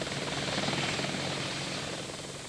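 An Apache helicopter in flight gives off a steady, dense rotor-and-engine roar, loud and continuous throughout with a faint rhythmic chop and no voices.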